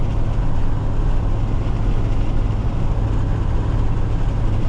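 A dump truck's diesel engine rumbles steadily nearby, a loud continuous low drone with no break and no voices over it.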